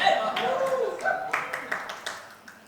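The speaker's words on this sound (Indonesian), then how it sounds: "Nanti Bang Saur kasih tepuk tangan." A church congregation claps hands in a few scattered, sharp claps that come through under a man's ongoing speech.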